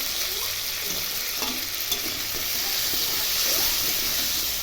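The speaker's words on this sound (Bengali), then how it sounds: "আলুটা ভালো করে ভাজা হোক" Potatoes, tomatoes and radish with salt and turmeric fry in oil with a steady, close hissing sizzle that runs throughout, with a few faint scrapes of stirring.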